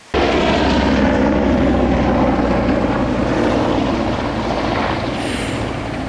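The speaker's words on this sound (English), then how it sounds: "That was just a helicopter going over." A helicopter passes overhead during a countryside walk in the Yorkshire Dales, a steady loud rotor and engine roar that stays constant and fades slightly toward the end.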